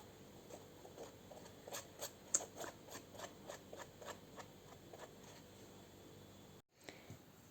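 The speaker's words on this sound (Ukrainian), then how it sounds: "Беремо серветку з великоднім принтом, вирізаємо малюнок, який нам е, необхідний." Scissors snip through a paper napkin with an Easter print, a close, quiet series of regular crisp cuts about every half second, ending in a short silence and a final soft rustle.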